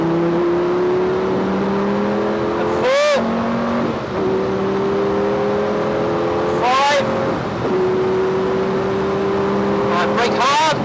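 A Lamborghini race car at full throttle on a track, its engine a steady loud drone with harmonics creeping upward, interrupted by several sharp bursts, while an instructor's voice talks over it throughout.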